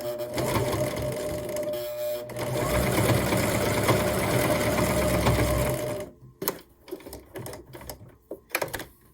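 A sewing machine stitches binding on a tiny Christmas tree quilt, a steady fast mechanical whir for about six seconds, then short stop-start bursts of stitching with pauses between.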